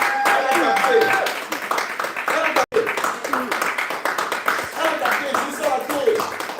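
A church congregation at a Sunday service claps and applauds together, a dense, steady patter of hands that stays loud throughout while a preacher keeps speaking over it.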